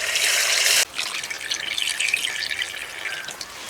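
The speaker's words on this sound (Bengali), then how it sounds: "এবার ঝোলের জন্য দিয়ে দেব জল।" Water is poured into a Bengali vegetarian papaya curry with bori (lentil dumplings) to make the gravy, after the spices are fried until the oil separates; a short loud gush of liquid, then a softer bubbling simmer.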